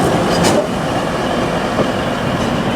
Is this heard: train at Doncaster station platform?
yes